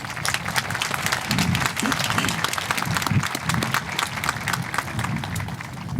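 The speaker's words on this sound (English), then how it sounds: "Please join me in a warm round of applause to thank Dr. Burns for all she has done." A high school graduation crowd at Azusa Pacific gives a dense, continuous round of applause, steady and full throughout, with faint crowd murmur beneath.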